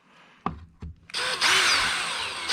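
Power drill countersinking screws while fitting an X-Maxx battery tray, with a couple of sharp knocks, then a loud, close, continuous whirring drill run biting into the material.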